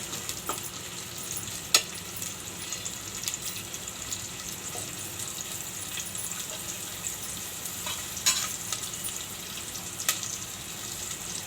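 Onions and green chillies fry with a steady, even sizzle in a pan, with occasional utensil scrapes and clacks as they are stirred throughout, close and continuous at moderate loudness with no talking.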